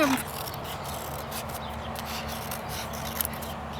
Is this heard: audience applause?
no